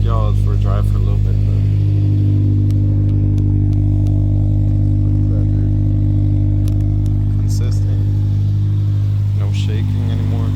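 Acura car engine running while the car is driven after a misfire repair: a steady, loud low drone with a constant hum, faint clatter and a few light clicks, and someone talking over it at the start.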